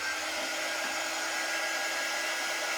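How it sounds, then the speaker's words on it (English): A hair dryer blows steadily at close range as a constant, even, airy whoosh with no pauses. "Let me hit this with the dryer."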